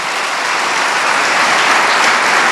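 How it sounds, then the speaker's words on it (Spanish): Church congregation applauding during a sermon, dense steady clapping from many hands, loud and sustained with no speech. "Dale un aplauso fuerte al Señor."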